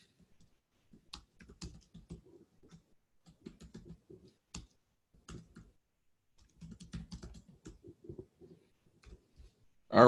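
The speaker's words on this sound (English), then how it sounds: "I'm just typing in something." Someone types on a computer keyboard up close, with bursts of quick clicking keystrokes separated by short pauses in an otherwise quiet room.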